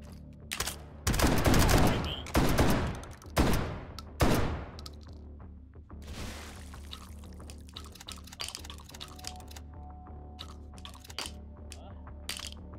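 Flechette rounds fire in Hot Dogs, Horseshoes & Hand Grenades in VR, several loud, close bursts of rapid gunfire in the first few seconds, then scattered metallic clatter and handling noises as a voice talks.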